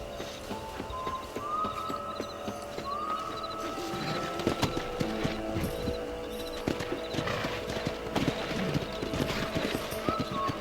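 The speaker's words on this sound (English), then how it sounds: "Let's mount up and patrol the ranch. Monte no seu cavalo." Steady clip-clop of horse hooves trotting across a ranch in Red Dead Redemption on Xbox 360, close and continuous, with birdsong and a brief whinny over the ambient game sound.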